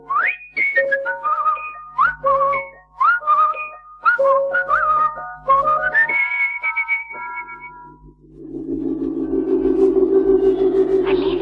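A melodic tune whistled by a character in the 1975 Greek dub of the animated film Lady and the Tramp, clear gliding notes in quick phrases for about eight seconds, then giving way to a steady rushing background noise.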